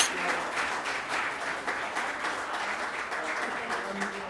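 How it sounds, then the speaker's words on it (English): Steady applause from an audience at a football club's end-of-season awards night, a dense continuous patter of many hands at moderate distance, holding evenly throughout. "Well done, guys. Round of applause."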